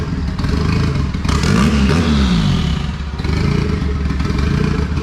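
A Honda Civic engine runs rough, a continuous close rumble with uneven clattering and a brief rising rev near the middle, heard alone without voices.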